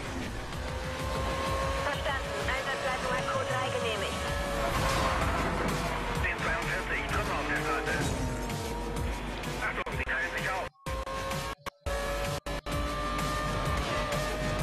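Race cars at full throttle in Need for Speed Most Wanted (2012), engines whining and climbing in pitch with tire noise, steady and loud under a man's speech, briefly cutting out near the end.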